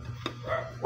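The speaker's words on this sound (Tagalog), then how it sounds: "ang ingay ng mga aso" Dogs bark nearby in a short burst: one sharp bark early, then another starting right at the end, fairly loud against a quiet background.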